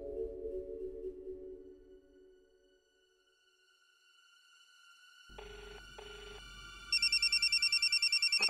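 A telephone rings after a fading musical tone: two short electronic bursts, then a fast, continuous trilling ring that sounds near and clear, with no voices over it.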